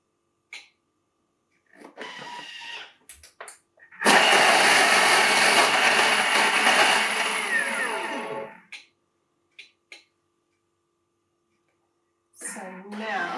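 A food processor whirs loud and close for about four seconds as it chops carrots and vegetables, a steady grinding motor drone that stops abruptly, with bits of speech before and after.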